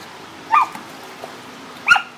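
Dogs at a doggie daycare give two short, sharp barks or yips about a second and a half apart, moderately close, over a quiet background.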